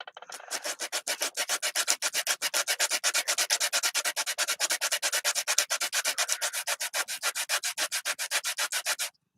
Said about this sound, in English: I'm going to trim that a little bit myself.